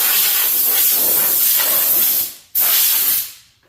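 A garden hose sprays water over a powder-coating mini-bike drag bike frame with a Predator 212cc engine, giving a loud, close, steady hiss that cuts out briefly, surges back, then fades away.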